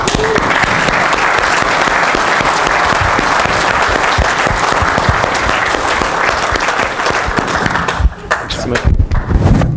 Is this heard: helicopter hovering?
no